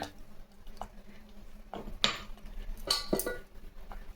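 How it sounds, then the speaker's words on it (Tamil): A spoon scrapes and clinks against a metal pot as cooked dal is stirred together with ground coconut and green chili for a Kumbakonam kadappa, giving irregular close metallic taps and scrapes over a low background. "பருப்பு ஊற்றி நல்லா கலக்கி விட்டுருங்க அது கூடவே நம்ம அரைச்சி வச்ச தேங்காய் பச்சை மிளகா"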